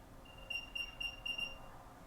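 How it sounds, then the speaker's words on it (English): An Apple AirTag plays its locating sound: a series of about five short, high, thin beeps in a quick rhythm, faint and close over quiet room noise. "AirTag is now beeping."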